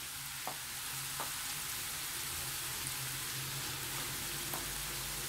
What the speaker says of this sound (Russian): И все это отправляю жариться к грибам.